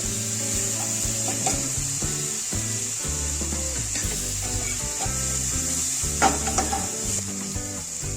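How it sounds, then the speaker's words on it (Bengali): Ghee sizzles in masala pulao as a wooden spoon stirs the rice around the pan, a close, steady crackle with rubbing scrapes and a couple of louder knocks toward the end, over constant background music. "তারপরে 1 চামচ মতো বেশি ঘি দেব"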